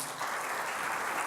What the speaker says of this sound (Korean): 우리 찬양팀을 위해서 박수 한번 했으면 좋겠습니다.